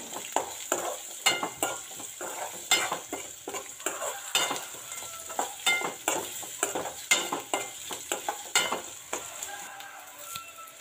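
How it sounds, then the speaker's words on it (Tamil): Onions sizzle in a hot pan while a utensil scrapes and stirs them in repeated, uneven strokes. No one speaks. "அதை இந்த நேரத்தில் சேர்த்து நல்லா வதக்கி விடலாம்"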